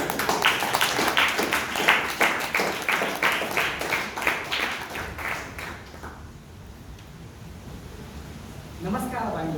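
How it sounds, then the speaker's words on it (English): A Toastmasters meeting audience in Bangalore claps steadily to welcome the first speaker for about six seconds, then the clapping fades into quiet room noise and a voice begins. "please continue your applause to welcome the first speaker"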